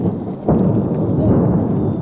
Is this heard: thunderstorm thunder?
yes